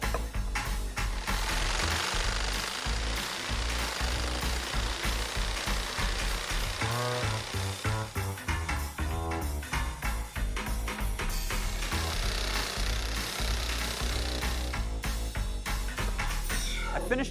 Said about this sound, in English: I'm actually going to use my saber saw and just clamp it to the table, do half the cut, and then flip it around and do the other half.